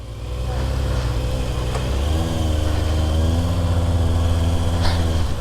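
A 2024 Kawasaki Ninja ZX-6R on Pirelli slicks at a race track, its engine catching and settling into a steady, loud, close idle with a smooth humming tone that rises slightly after the first couple of seconds.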